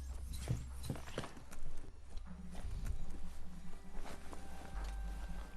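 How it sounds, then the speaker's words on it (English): Mechanical horse hooves clip-clopping in the Biomutant video game, a steady walking rhythm of hoof clops over a low rumbling game background with no talking. "We get to ride that mechanical horse."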